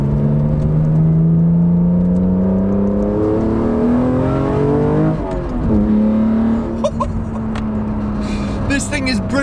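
A BMW Z4 M Coupe engine pulls hard during a fast drive, its tone climbing steadily through two upshifts in a loud, close cabin drone. A person talks over it partway through.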